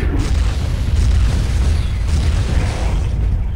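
Heavy booming grenade launcher blasts in the Turok 2 video game, a continuous rumbling low roar of overlapping explosions, loud and sustained without pause.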